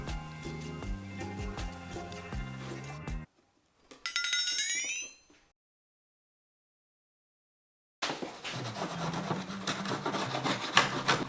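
Wood being shaved and carved by hand for the chest piece of a wooden Gundam model, close raspy scraping and rubbing strokes in repeated bursts, broken by a short high ringing tone and several seconds of silence.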